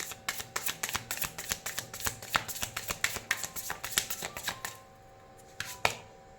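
Tarot cards are shuffled in quick, crisp riffling snaps, close and fairly loud, then go quiet before a couple of isolated slaps as a card is drawn.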